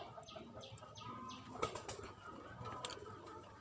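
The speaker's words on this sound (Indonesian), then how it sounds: "cara membedakan ciri-ciri burung perkutut yang anggungannya itu empuk dan keras" A zebra dove (perkutut) coos in short, faint, rounded phrases, with a brief wing flutter and light rustling around it. The bird sounds fairly distant and quiet, and no one speaks.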